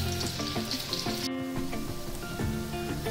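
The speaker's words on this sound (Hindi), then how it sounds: "जो हमारे मंचूरियन बॉल्स हैं वो फ्राई हो गए हैं बिल्कुल ब्राउन कलर में" Vegetable Manchurian balls deep-frying in hot oil, a dense, continuous sizzle heard close, under a layer of sustained tonal background music with no talking.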